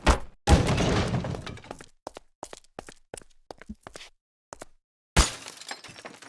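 Glass shatters in Garry's Mod, two sharp crashes bursting into a spray of tinkling shards, separated by scattered small clinks and taps of falling fragments in an abandoned office map.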